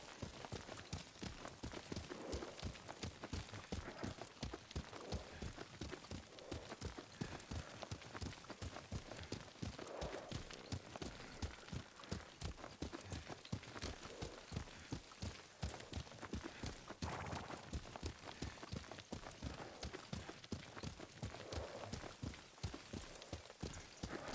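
Rapid, steady horse hoofbeats pound along in a continuous galloping rhythm in the video game Ghost of Tsushima, close and even, lasting throughout with no voices over them.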